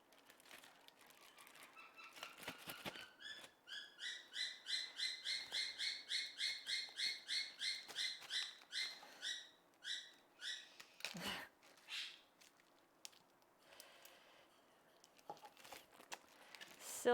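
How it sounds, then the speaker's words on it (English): Small birds outside a home kitchen chirp in long runs of quick, evenly spaced notes, with quieter scattered calls and light rustling after. The calls sound fairly faint and there is no speech. "Silly birds. They're always trying to get in on the conversation."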